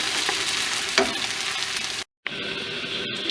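Okra frying in a pan with onions hisses in a loud, dense, continuous sizzle, with a stir or bump near one second and a brief dropout partway through.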